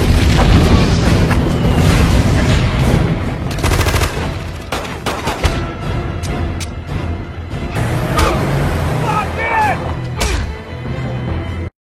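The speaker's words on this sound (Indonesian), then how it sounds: "mobil yang sudah Dom siapkan tiba-tiba meledak" A loud, chaotic stretch of booming blasts and crashing debris from a car explosion in a Fast & Furious film, with rapid bursts like gunfire scattered throughout, dense and continuous for the whole stretch.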